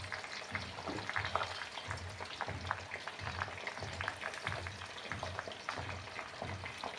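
Curry leaves fry in oil for homemade hair oil, giving a faint, steady crackle with soft irregular pops and a low bubbling pulse throughout.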